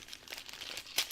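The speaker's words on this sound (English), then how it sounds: "he's going through the wrapping paper" Wrapping paper crinkles and rustles softly as a gift is unwrapped, faint and close, ending in a sharper crackle.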